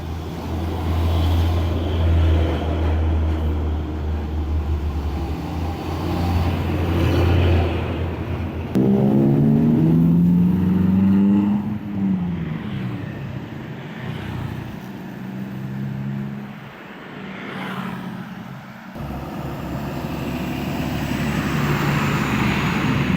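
Road traffic rumbling past on a narrow, congested road beside the stalled Bogeg flyover construction site, a continuous loud wash of engines with one heavy vehicle surging past midway.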